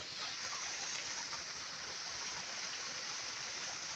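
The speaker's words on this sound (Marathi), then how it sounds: "इथून पाणी येते असं इथून असं फिरून जाणार" Water flows steadily through an irrigation channel in a farm field, a close, even rushing and gurgling hiss that carries on without a break.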